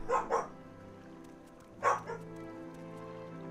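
A dog barks in the game Morrowind, with two quick barks at the start and another a couple of seconds later, fairly clear over quiet background ambience.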